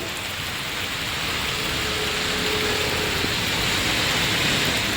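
Steady rain falls, a dense continuous hiss of drops on surfaces that grows slightly louder after the first second, with no voices.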